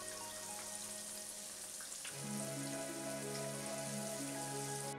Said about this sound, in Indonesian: goreng dengan menggunakan api besar di awal hingga tahu mengapung ringan dan kokoh